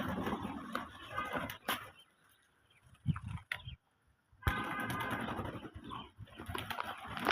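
Desi pigeons cooing in a home loft, soft throaty coos in short bursts broken by brief silences and a few sharp clicks, with faint flapping and background farm noise.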